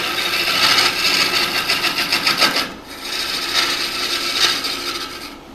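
A mesquite rolling pin being roughed down on a wood lathe, a continuous rasping, scraping cut that rises and falls in intensity, pausing briefly midway before the tool bites again, close and loud.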